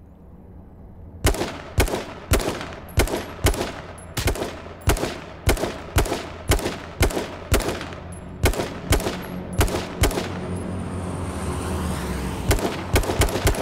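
Gunfire in H1Z1 King of the Kill, a steady run of about twenty loud, evenly spaced single shots fired close by, with a rising engine-like rumble building underneath toward the end.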